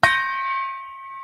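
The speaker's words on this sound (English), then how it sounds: "let me get the gong" A small gong struck once gives a sharp metallic attack that settles into a bright, sustained ringing tone, close and clear with nothing else over it.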